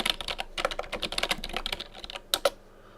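Fingers typing a folder name on a computer keyboard, a close, rapid run of clicky keystrokes with uneven rhythm, ending in two sharper separate taps, with no voices.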